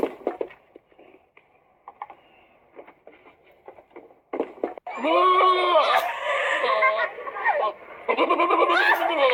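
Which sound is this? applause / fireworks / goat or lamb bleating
goat or lamb bleating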